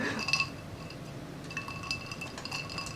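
Glasses touch in a cheers toast, producing a few faint, bright clinks and short ringing tones over a quiet room background.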